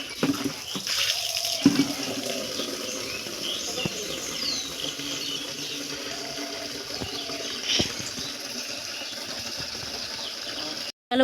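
Water pouring into a bucket at a village home in West Bengal, a steady rushing, splashing flow that runs throughout, with a person talking over it.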